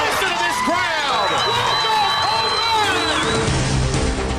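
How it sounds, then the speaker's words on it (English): A high school baseball crowd roars and cheers after a home run hit deep to left field, a steady loud wash of voices and whistles in an outdoor ballpark, heard alone without commentary. "Listen to this crowd."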